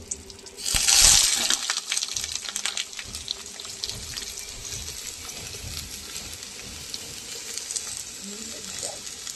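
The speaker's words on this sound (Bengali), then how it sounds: "ভালো করে আগেরটাকে নুন হলুদ দিয়ে ভাজবো" Spices being fried with salt and turmeric in a home kitchen pan, opening with a loud hissing burst that settles into a steady sizzle over several seconds.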